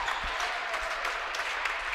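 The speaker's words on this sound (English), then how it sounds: "Here comes the crowd." Crowd cheering and clapping at the close of a women's college basketball game, a dense, steady roar of applause filling the whole stretch.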